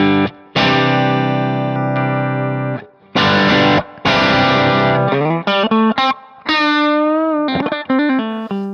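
Stratocaster electric guitar played through a Kemper Profiling Amp profile with low gain and its spring reverb, loud sustained chords and single notes with bends, separated by brief pauses, reverb tails trailing each phrase.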